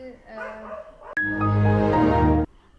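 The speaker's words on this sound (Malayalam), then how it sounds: "പട്ടി കൊരയ്ക്കുന്നതിന് മുന്നേ അടുത്ത് പറയാം" After some quiet talking, a dog lets out one loud, drawn-out bark close by, stretching into a long yowl before cutting off.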